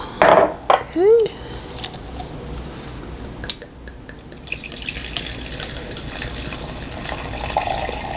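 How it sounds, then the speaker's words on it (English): Vodka poured from a bottle into a measuring cup in a home kitchen, a steady close liquid trickle after a few brief clinks of glass. "it just looks like I'm pouring water, but it's vodka"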